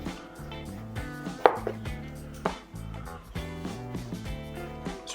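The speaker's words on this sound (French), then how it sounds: "Je vais venir faire le concombre. Donc là, tu peux le tailler tout finement." Kitchen knife finely slicing cucumber on a cutting board, rapid rhythmic knocks in steady succession, close and clear, with a couple of sharper louder chops along the way.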